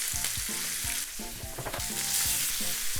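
Precooked Japanese chashu pork sears in a hot frying pan with a loud, steady sizzle and crackle, and the pan is nudged and stirred now and then, with no voices.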